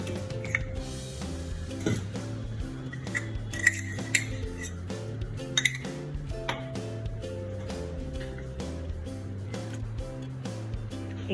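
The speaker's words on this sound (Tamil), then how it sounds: "இப்போ நல்லா பீட் பண்ணணும்" Cake batter with butter and milk is beaten in a bowl, giving quick rhythmic clinks and ticks of a utensil against the bowl over a steady tonal background.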